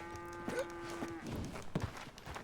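A cow lows in the open world of Red Dead Redemption 2, one long steady moo that fades, followed by softer rustling and a few faint thuds in a quiet outdoor setting.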